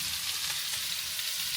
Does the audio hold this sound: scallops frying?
yes